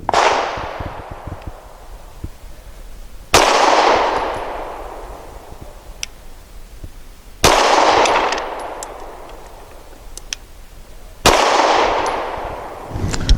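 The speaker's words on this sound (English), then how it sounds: "Is it going to cycle the rotating action of the Grand Power Q100? We'll see on target number 1." Four sharp, loud gunshots from a Grand Power Q100 rotating-barrel pistol fired at a target, evenly spaced about four seconds apart, each with a long echoing decay, no talk.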